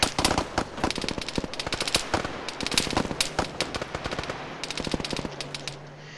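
Loud automatic gunfire fills a multiplayer military shooter game in the Groundwar: Operation Sever event. Rapid bursts and single sharp cracks crowd together for about six seconds, with a short lull before more shots.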